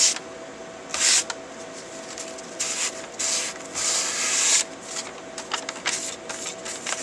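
Grit slurry is mopped up from the surface of a Norton sharpening stone, making soft, close, rubbing and wiping strokes in irregular bursts with brief pauses between.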